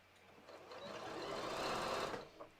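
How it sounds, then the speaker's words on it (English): A sewing machine stitches in a short, quiet burst, back tacking at the bottom of a seam on a pair of yoga pants, its whir building then easing off after about two seconds. "when I get to the bottom of the seam, I am going to back tack."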